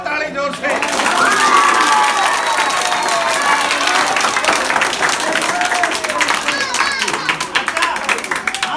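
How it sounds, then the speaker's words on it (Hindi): A crowd of children and adults claps and cheers loudly and steadily for several seconds, with shouts and voices mixed into the dense applause. "बजाओ ताली जोर से।"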